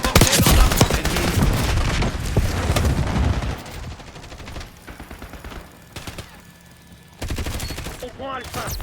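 Rapid bursts of MP40 submachine gun fire crackle through a multiplayer war game firefight, dense and loud at first, easing into sparser shots, then returning as sharp volleys near the end.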